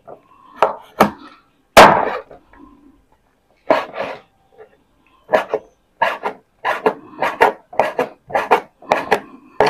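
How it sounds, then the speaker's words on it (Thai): A knife chops duck tail into small pieces on a board for Isan duck larb, sharp close strikes, a few scattered at first, then settling into a quick, steady run of chops. "ตูดเป็ด หั่นเป็นเล็กๆครับเพื่อที่จะไปผัดให้สุกง่ายๆ"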